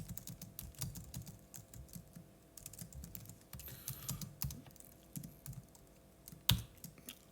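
Keys on a computer keyboard are pressed repeatedly in an uneven run of close, crisp clicks, with one louder clack near the end and no talking.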